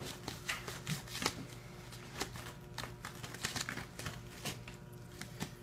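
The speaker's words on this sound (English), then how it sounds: "So you just run your blade down." A knife blade runs along a northern pike fillet during filleting, giving a string of quick scraping, ticking cuts in an uneven patter, close and quiet with no talking.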